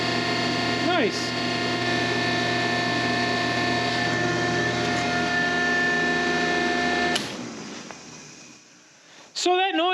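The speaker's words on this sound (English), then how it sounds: "So that noise you hear is the coolant pump running." Coolant pump running on a Miller Coolmate 20 TIG welder chiller, a steady mechanical hum with strong tonal harmonics that holds for about seven seconds, then cuts off and leaves faint background noise before a brief squeal at the end.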